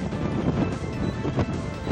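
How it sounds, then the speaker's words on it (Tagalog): Strong typhoon wind roars through beach trees on the coast of Cagayan, Philippines, buffeting the microphone in continuous gusts, a rough, rushing outdoor noise with no voices. "Winasiwas din ang hangin ng mga puno sa dalampasigan"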